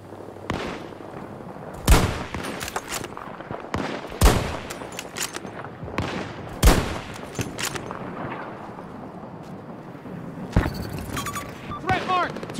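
Gunfire in the video game Battlefield 2042: several loud, sharp bursts of shots at irregular intervals, with scattered crackling between them, over a steady background of game noise.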